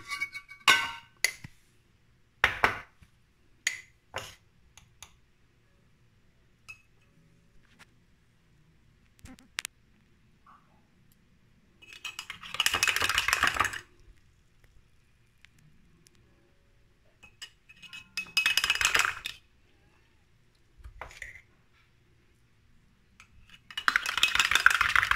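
A spoon clinks against a cup while milk and sugar are stirred into tea, giving scattered sharp clinks and taps that come in several short bursts separated by quiet gaps.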